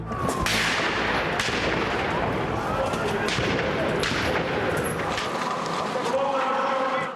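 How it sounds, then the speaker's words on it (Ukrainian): Sharp cracks of gunfire ring out at irregular intervals over a noisy background of crowd commotion and shouting voices, during targeted shootings in the centre of a European capital. "Прицільні розстріли в центрі європейської столиці."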